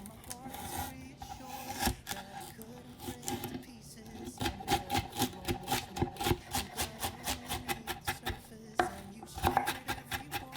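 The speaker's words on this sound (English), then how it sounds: "And then I'm going to slice them in half." A knife slices vegetables in half for Costa Rican sofrito, making quick, regular cuts that knock on a board in a close, rhythmic series with brief pauses between runs.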